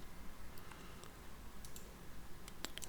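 Computer mouse clicks, a few faint sharp ticks spread out over a low steady background hum, with a quick cluster near the end.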